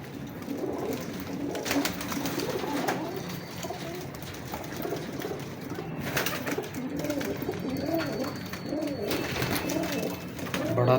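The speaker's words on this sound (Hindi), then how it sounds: "बड़ा तगड़ा कबूतर है ये" Pigeons coo repeatedly in soft, rolling bursts, several birds close by, with a steady background murmur throughout.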